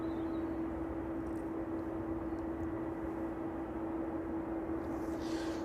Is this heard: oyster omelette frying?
no